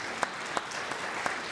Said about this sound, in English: I'm getting applause for wearing a tie.